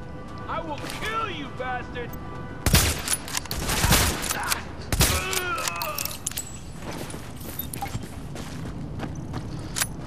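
Gunfire from the video game The Division, a few loud broadband bursts in the middle of the clip over game ambience, with someone talking before and after the shots.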